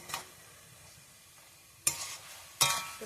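Vegetables being stirred in a pan for a tiffin dish, with two or three sharp scraping clatters of the spatula over a soft background sizzle, close and fairly quiet.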